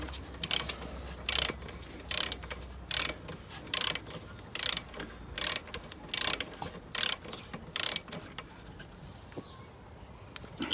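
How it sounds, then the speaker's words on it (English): A ratchet tightens a motorcycle brake pad retaining rod, with about ten evenly spaced bursts of rapid clicking from close by, each roughly half a second long, then a quieter stretch at the end. "Now we've got it nice and secure, I can tighten this rod in all the way home."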